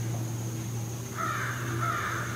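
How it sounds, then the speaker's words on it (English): Crows caw in the distance along a hiking trail, two harsh drawn-out calls in the second half, faint over a steady hum and background noise, with nobody talking. "these crows over here who are clearly upset"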